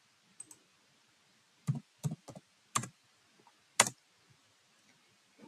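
Sparse keystrokes on a computer keyboard as a Windows command is typed into the Run dialog: a handful of crisp, separated clicks, faint and close, with quiet gaps and no voices.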